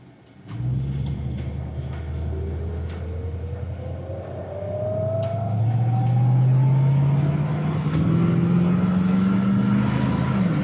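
A 1965 Ford Thunderbird engine accelerates close by, its pitch climbing steadily, dropping at a gear change to second, then rising again under a steady rumble.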